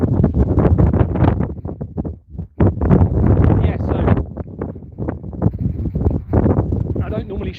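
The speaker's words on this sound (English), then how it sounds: "I'm just on the top of a hill, so it is a bit windy." Wind buffeting a microphone on top of a hill, a gusty rumble running under a person talking close up throughout.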